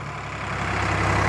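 A steady, low engine rumble of a Ford 855 tractor pulling a 9-foot super seeder through muddy field nearby, growing slightly louder over a second or so.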